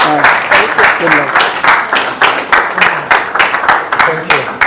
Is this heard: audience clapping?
yes